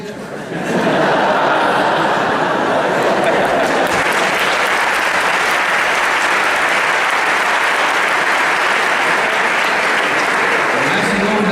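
Sustained audience applause from a crowd at a university lecture on free education, steady and dense from start to finish with a few chuckles mixed in.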